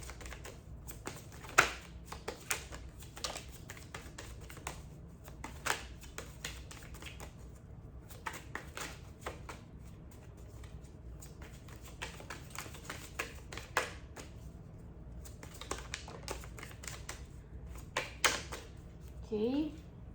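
Tarot cards are shuffled and handled in quick, faint clicking and riffling bursts that keep going with short pauses, soft and close by.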